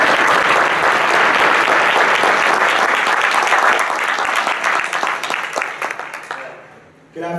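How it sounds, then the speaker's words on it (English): Sustained applause from a large graduation ceremony crowd at Drexel, loud and dense, thinning out and fading near the end. "maybe we can give him one more round of applause"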